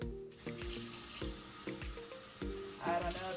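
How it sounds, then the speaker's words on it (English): Water runs steadily from a kitchen tap into a sink or bowl, a continuous close splashing hiss with shifting tone throughout, while a few soft clinks and knocks occur near the counter. "I don't know if you guys can hear the water, but I've got water running."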